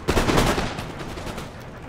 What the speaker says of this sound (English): 63rd Regiment of Foot will open fire